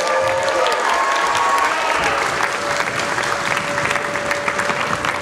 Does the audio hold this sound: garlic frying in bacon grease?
no